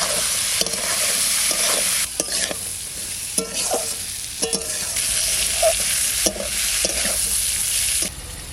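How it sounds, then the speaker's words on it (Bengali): Chopped yardlong beans hit a hot pan with salt and turmeric and are stirred, giving a steady loud sizzle with repeated scraping strokes of a spatula at an uneven rhythm, ending abruptly. "এবার বরবটি কটা দিয়ে দিচ্ছি।"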